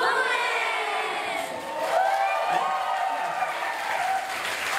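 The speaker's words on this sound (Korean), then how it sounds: "여러분들 좀 박수와 환호성 좀 많이 필요할 것 같아요" Audience at a K-pop group showcase claps and cheers continuously, a dense wash of applause with whoops and shrieks from the crowd.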